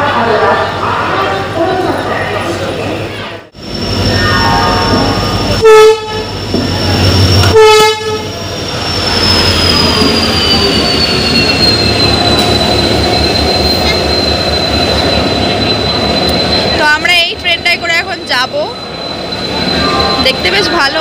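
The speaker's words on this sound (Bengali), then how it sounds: "চলে এসেছে আমাদের ট্রেন।" A train pulls into a station, its rolling rumble and rail noise filling the scene, with a long high horn or brake whine sustained over it and wheel clatter near the end, while voices talk nearby.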